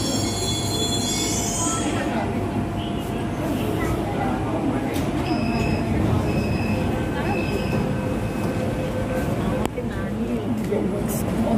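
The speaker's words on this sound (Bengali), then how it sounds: "আমরা এখন মেট্রো থেকে নামলাম।" A metro train runs steadily on its rails, a continuous loud rumble with high wheel squeal and scattered metallic clicks throughout, and faint voices sit under the noise.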